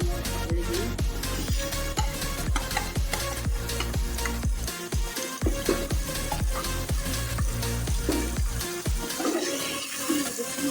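Minced meat added to fried onions in a pan for aloo mutter keema, giving a loud, steady sizzle with repeated stirring scrapes and clatter throughout, with no talking.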